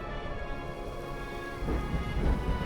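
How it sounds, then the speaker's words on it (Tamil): A storm at sea in an animated Bible story of Jonah, with dense, steady rain hiss and deep rolling thunder that builds louder toward the end, with no talk. "ஆனால் புயல் மிகவும் கடுமையாக இருந்தது"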